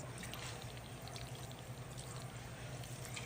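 Fish sauce (patis) pours steadily into a cooking pot of beef-flavored broth with whole black pepper, a continuous close liquid stream with no talk.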